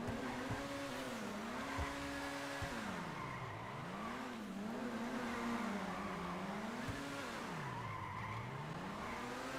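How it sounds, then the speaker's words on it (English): A car drifting in a video game, its engine pitch rising and falling in repeated sweeps as it revs, with tire skid and squeal mixed in, steady and close at low volume. "I'm just gonna have to try testing out drifting this"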